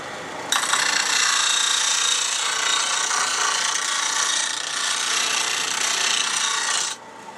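A steel burnisher drawn along the edge of a wood card scraper to turn a wire edge: one loud, sustained, close scraping rasp lasting several seconds, with quiet before and after.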